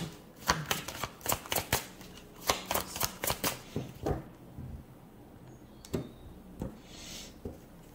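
Tarot cards shuffled by hand: crisp, rapid riffling clicks in close bursts that thin out into scattered single snaps and taps, nearby and fairly quiet, with no talking.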